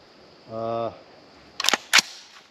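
Two sharp, clipped rifle shots about a third of a second apart, fired from a 20-inch A2 rifle with M855 green-tip ammunition at trees. A short voiced tone comes before them, and the reports sound distant and fairly faint.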